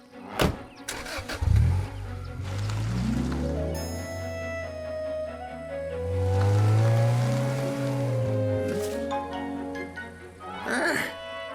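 A cartoon car engine cranks, starts and drives with a rising and falling motor whine over a low rumble, loud and close, with a whooshing pass near the end.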